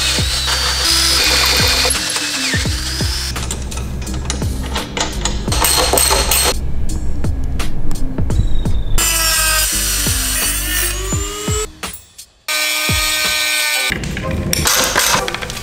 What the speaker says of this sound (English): You have to drill a hole through this swing arm and put a bolt through it